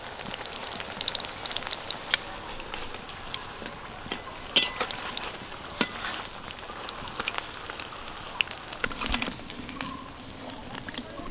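Pumpkin leaf rolls frying in hot oil give a steady, fairly quiet crackling sizzle with scattered sharper pops and spatters throughout.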